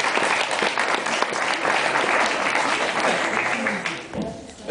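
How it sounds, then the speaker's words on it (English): Audience applause welcoming a visiting chief from England at a Rotorua gathering, a dense sustained wash of clapping close by that tapers off near the end, with some voices mixed in. "Please welcome him with a warm round of applause."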